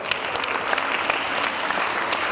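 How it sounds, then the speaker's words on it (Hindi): An audience at Acharya Kulam in Haridwar claps together for a young schoolgirl, a short burst of dense, even applause from a nearby crowd. "जो इसके लिए तो दोबारा ताली बजाओ"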